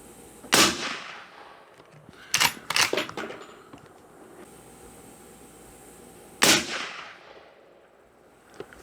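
Three loud, sharp rifle shots from a lever-action .30-30 firing Remington Core-Lokt 170-grain lead-tip ammunition at targets, spaced a few seconds apart, each with a ringing decay, plus quieter mechanical clicks of the lever being cycled between them.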